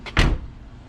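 A 1985 Camaro Z28 door swings shut with one solid, loud close-up thud, preceded by a brief latch rustle and followed by a short fading resonance.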